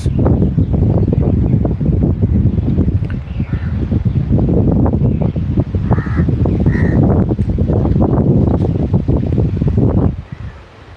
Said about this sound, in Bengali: প্রচুর পরিমাণে বাতাস